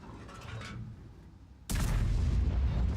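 A tank gun fires in World of Tanks, a sudden loud blast that cuts in midway and holds a heavy rumbling roar after quieter battlefield ambience.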